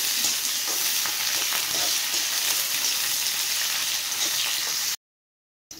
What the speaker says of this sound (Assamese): এতিয়া এইখিনি অকণমান ভাজি ল'ম